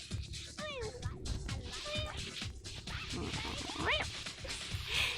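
A person imitates a cat's meow with several short, rising, nasal meow sounds scattered between talking and game noise, quiet and close.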